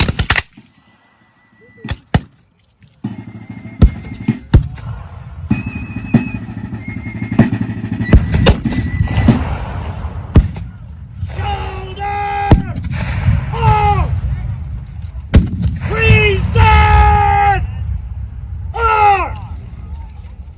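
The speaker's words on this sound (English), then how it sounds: "we will fire and salute" Civil War reenactors fire a rifle salute outdoors, with several sharp, loud cracks spread across the clip and ringing tonal sounds between the volleys.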